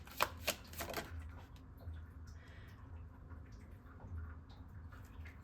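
Tarot cards riffle and slap as a deck is shuffled and a card is drawn, with crisp bursts at the start easing into softer shuffling rustle, close and fairly quiet, with no talking.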